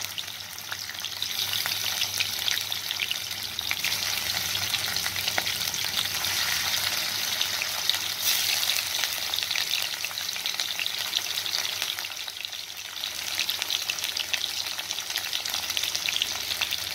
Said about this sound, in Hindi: फ्राई हल्का सा कर दूँगी इसको।